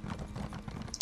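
Horse hooves clip-clop in the video game Elder Scrolls Online, a quick steady gallop of soft thuds, fairly faint, with a brief bright jingle at the end.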